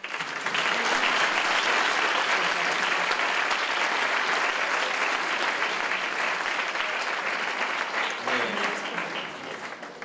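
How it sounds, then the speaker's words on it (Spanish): An audience at a corporate social responsibility and sustainability conference bursts into sustained applause, loud, dense and continuous for about ten seconds before tapering slightly at the end, with no talk over it. "Así que yo pido un aplauso."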